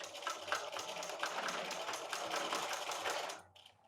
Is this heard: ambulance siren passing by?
no